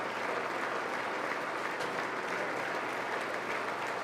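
Steady, dense applause from a large audience in the chamber at the State of the Union address, continuous and loud throughout without any breaks.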